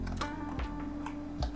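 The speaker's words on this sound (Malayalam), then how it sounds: "എന്നിട്ട് ഞാൻ അതിവിടെ നിന്ന് ടൈപ്പ് ചെയ്തെടുത്തത്" Keys tapped on a computer keyboard while entering Linux terminal commands, a few soft, sparse clicks close by over a low steady hum.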